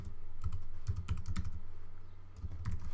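Quick bursts of keystrokes on a computer keyboard, close and fairly quiet, with irregular clusters of clicks, a short pause, then more typing.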